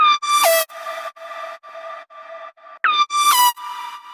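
Three layered synth lead sounds with sharp pitch bends, a bright buzzy sweep opening and closing a run of shorter repeated stabs, loud and alone.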